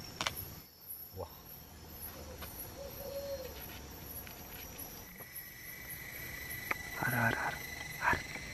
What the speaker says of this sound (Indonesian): Ada burung har.